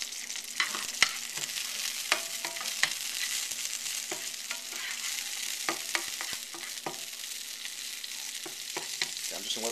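Pepper and a pinch of rosemary sizzle in olive oil in a pan, a steady close crackle with frequent sharp pops and stirring scrapes, without any talking.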